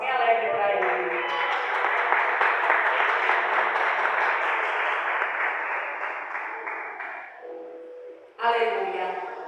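Women at a church congress clap their hands joyfully in praise, a dense, bright wash of applause lasting about seven seconds, then fading briefly before a voice cuts in.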